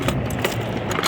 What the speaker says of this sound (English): And my ratchet set right here.